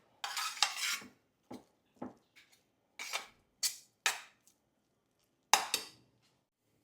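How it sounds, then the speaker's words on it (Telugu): Spiced potatoes being mixed with masala in a pan for dabeli: a series of sharp metal scrapes and clinks from a spoon against the pan, separated by short silences, close and clear, with no talking. "మంచిగా మసాలా అంతా కూడా ఈ బంగాళదుంపలకి పట్టేటట్టుగా ఫుల్గా మిక్స్ ఇచ్చేసేయండి"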